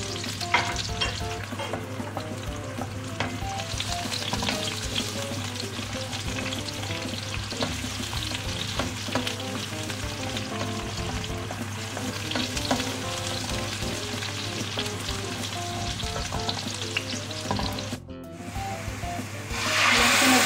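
Onions frying in a pan, a dense steady sizzle with constant stirring and scraping for a long stretch, close by, with a brief knock near the end and no speech.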